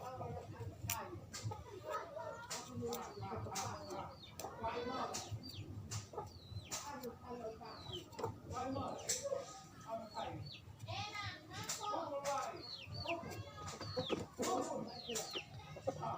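Chickens sick with a respiratory rattle clucking and calling in a backyard coop, frequent short clucks and chirps scattered throughout at moderate distance, with children's voices and talk in the background.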